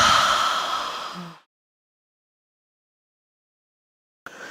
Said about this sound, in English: you breathe in through the nose and breathe out through the mouth slowly